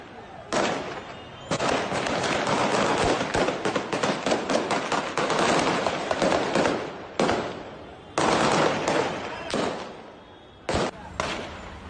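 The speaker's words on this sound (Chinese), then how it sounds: "塔利班就直接对群众开枪。" Dense gunfire crackles as Taliban fighters shoot at a crowd in Afghanistan, long rapid bursts of loud close shots with brief pauses between volleys.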